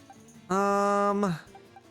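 A bird Pokémon's cry during a Pokémon Scarlet battle: one loud, sustained, harmonic electronic call lasting about three-quarters of a second, bending downward as it fades, standing alone.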